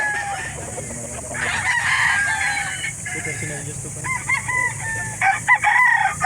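Chickens and roosters at a poultry market in Calauan, Laguna, with repeated crowing and clucking over a steady crowd murmur, while people talk nearby throughout.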